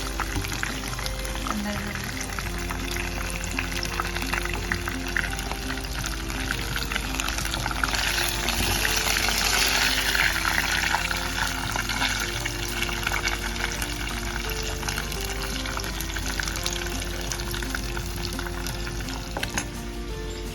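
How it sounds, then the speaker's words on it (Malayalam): Pepper garlic chicken fries in a pan, a steady crackling sizzle running throughout with a faint low hum underneath and no talking. "ചിക്കൻ ഒന്ന് ഫ്രൈ ആവുക."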